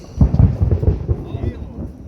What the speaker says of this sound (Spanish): Si se pudo escuchar es por tronó.